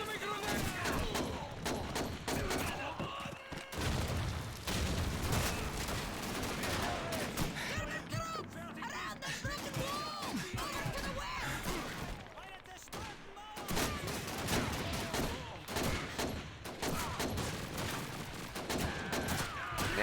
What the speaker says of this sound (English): Machine gun MG-42 on the far side of the smash wall!